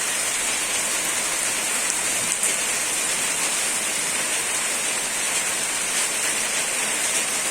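Heavy rain pours down in a dense, steady hiss that stays loud and unbroken from start to finish, with no voices over it.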